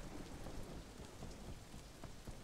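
Heavy rain pours steadily in the Sleeping Dogs video game, with low rumbles of thunder rolling underneath the dense, constant downpour and no voices.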